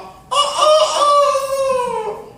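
Voice imitating a rooster crowing, one long drawn-out loud call that slides slightly down in pitch before fading, close and alone.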